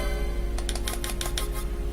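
A mouse and keyboard used while playing Final Fantasy XII on a computer: a short cluster of light, quick clicks over a steady background hum.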